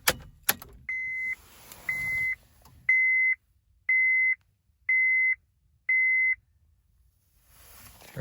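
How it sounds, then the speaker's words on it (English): Car dashboard chime as the ignition key is turned in a parked test car: six evenly spaced, clear electronic beeps about a second apart, close and alone after a faint jangle of keys. "So we're just gonna turn the key."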